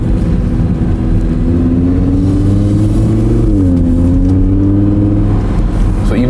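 A 2017 Audi R8 Spyder V10 with 540 hp and its sport exhaust activated accelerates with a loud, continuous engine drone that rises and dips steadily in pitch through a gear change, heard from inside the car without talking.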